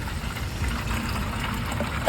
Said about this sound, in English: Now I'm pouring it